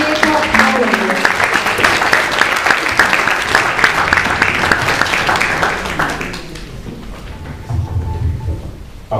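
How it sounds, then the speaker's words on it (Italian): An audience at a presentation event in Pescara applauds for Aceto and Aurelio, dense sustained clapping for about six seconds that then fades into quieter room sound with a low murmur. "Un applauso a Aceto e Aurelio."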